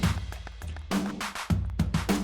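Acoustic drum kit doubled with electronic drum samples in a mix, punchy kick, sub, snare and overhead hits striking in a steady pattern, loud and close with no talking.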